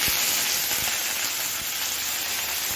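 Taro leaves hitting hot oil in a kadai with bay leaf, dried red chilli and black cumin, giving a loud, steady, close sizzle and hiss throughout, with no voices.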